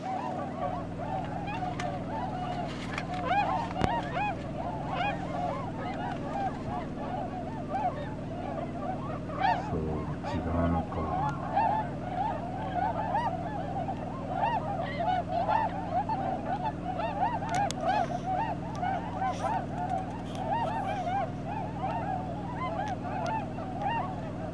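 Swans call at the Natsume weir, a dense, continuous flock chorus of honking and trumpeting calls, moderately loud and steady throughout, with a few sharp clicks.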